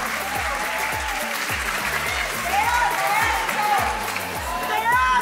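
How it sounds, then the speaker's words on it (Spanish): An audience applauds continuously at an evening show, dense clapping that swells slightly toward the end, with a few whoops and cheers and a voice speaking over the crowd. "Quiero pedir un fuerte aplauso, por favor"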